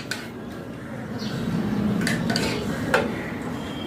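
Plates and steel utensils clink and clatter as a home lunch plate is served with dal, chapatis and cabbage bhaji. Several sharp metallic taps ring out over a low background rumble.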